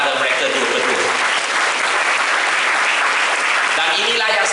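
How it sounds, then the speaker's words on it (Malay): Audience clapping at a ceremony handing over a new school bus to a school, a loud, even wash of applause lasting several seconds with murmured voices underneath. "Bagi satu tepukan pada mereka dua-dua."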